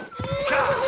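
A horse in the video game Kingdom Come: Deliverance 2 lets out a short, close, rising whinny, with faint hoof and movement noises underneath.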